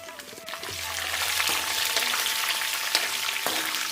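Peanuts and green chillies frying in hot oil for lemon rice, a steady dense sizzle with a few sharper crackles and stirring scrapes, close and continuous with no one talking.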